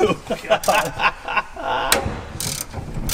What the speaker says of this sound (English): Alright, get ready to open the trunk. Oh, it worked! The latch fell.